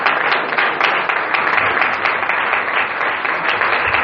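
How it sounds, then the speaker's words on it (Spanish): A church congregation claps and cheers in a dense, steady burst of applause that fills the room evenly for several seconds. "¿Le puedes dar un fuerte aplauso?"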